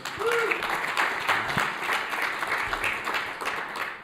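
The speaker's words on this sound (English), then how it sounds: "If you give them a big round of applause, guys" A conference audience at a cybersecurity event gives a big round of applause, a dense, even wash of clapping that holds steady from start to finish before tapering slightly.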